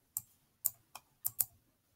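A password is typed on a computer keyboard: five crisp, close key clicks spaced unevenly over two seconds against near silence.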